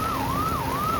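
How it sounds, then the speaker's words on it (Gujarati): A fire brigade siren wails up and down in a steady repeating cycle as the engine moves through heavy traffic, with road rumble underneath and no talk. "આ તમે જોઈ રહ્યા છો, ફાયર બ્રિગેડ ફૂલ ટ્રાફિકમાંથી જઈ રહ્યું છે."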